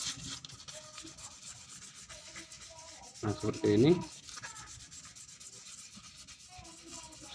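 Sandpaper rubbing against the starter pulley of a Honda Beat FI scooter, a brief burst of scraping strokes in the middle under quiet background noise, with someone speaking briefly.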